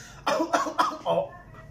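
A voice imitates a cough, four short harsh bursts in quick succession, close and fairly loud.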